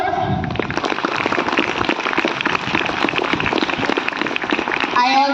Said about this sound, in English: Can we also give them big applause?